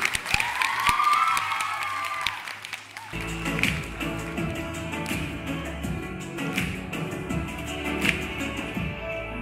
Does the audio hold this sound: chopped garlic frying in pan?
no